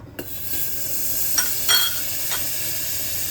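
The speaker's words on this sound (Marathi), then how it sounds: "कुकर पण गरम करायला ठेवून घेतलेलं आहे। कुकरमध्ये आपल्याला बटर टाकून घ्यायचं आहे 2 चमचा" Two spoonfuls of butter hit a hot pressure cooker and sizzle steadily with a bright hiss, with a few sharper spits and crackles breaking through the frying.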